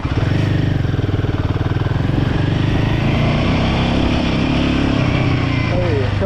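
A 2024 Royal Enfield Himalayan 450 motorcycle engine while riding: a steady, close, pulsing single-cylinder thrum with wind rush, loud and continuous, someone talking over it.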